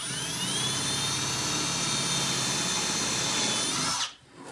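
A power drill whirs continuously at high speed for about four seconds drilling pilot holes in wood, then cuts off abruptly into near silence.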